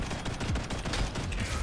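Machine gun tap fire in the shooter game Ghost in the Shell: First Assault: a short, dense burst of rapid gunshots, fairly quiet and continuous through the brief moment.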